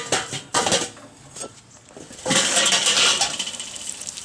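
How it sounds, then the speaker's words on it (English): A grill lid clanks shut over onions cooking on direct heat, a couple of sharp metallic knocks followed by a longer sizzling hiss. "but we need to close the lid."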